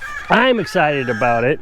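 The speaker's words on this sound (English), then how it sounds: "That's Rue, that's one of the roosters." Rue, a rooster kept at an off-grid tiny-house homestead, gives loud, close crowing calls and clucks in quick succession while a person speaks briefly.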